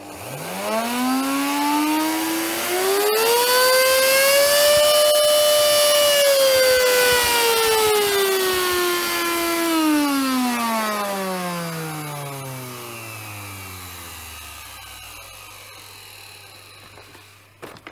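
A repaired Miele S7260 vacuum cleaner motor whines up to speed, holds a loud, strained high-pitched tone, then gradually winds down in pitch over several seconds as it spins to a stop.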